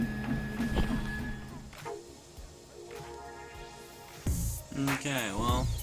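A 3D printer prints a hard drive enclosure, its stepper motors whining in shifting tones with rising and falling sweeps, soft clicks and mechanical movement, fairly close and moderately quiet.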